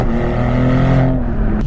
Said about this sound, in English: Let's go ahead and do a little acceleration here and see how this thing feels.